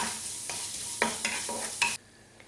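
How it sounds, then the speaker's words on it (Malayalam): A spoon scrapes and stirs urad dal with mustard seeds frying in hot oil, a few distinct scraping strokes over a steady sizzle, close and fairly loud, with no speech. "ഇതൊരു ലൈറ്റ് ബ്രൗൺ കളർ ആവുന്നവരെ ഒന്ന് ഇളക്കിയെടുക്കാം"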